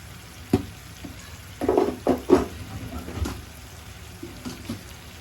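Spoon stirring a tomato sauce with chili flakes in a pan for stuffed meatballs, a few soft scraping strokes and gentle sizzling, fairly close and quiet.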